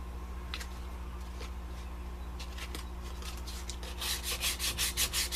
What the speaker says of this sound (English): And some sanding.